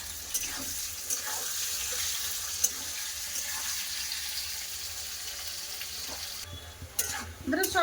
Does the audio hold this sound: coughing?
no